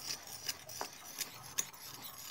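Soft scraping and rubbing sounds repeat unevenly, with a few light clicks, like a spoon stirring a thick paste in a bowl, quiet and close; fish bait mixed with water for tawes fish.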